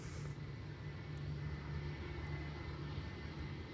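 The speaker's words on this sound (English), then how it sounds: "KLM flight 644 is arriving from New York, JFK." KLM flight 644, registration PH-BQA, a 21-year-old airliner arriving at Schiphol on the Polderbaan runway 18R from New York JFK, a steady low engine rumble and roar held throughout, moderately distant and alone.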